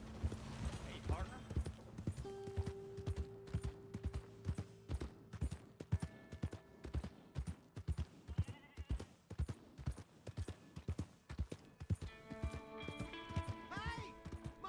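Horse hooves clip-clop in a steady walking rhythm in the video game Red Dead Redemption, close and continuous, with occasional game music tones and voices.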